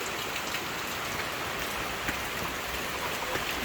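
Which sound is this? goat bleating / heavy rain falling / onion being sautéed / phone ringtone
heavy rain falling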